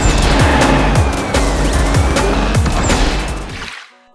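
A car drifts in a mobile racing video game, giving loud, continuous engine noise with repeated tire squeals and skids before the sound cuts off abruptly near the end.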